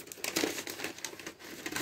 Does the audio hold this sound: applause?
no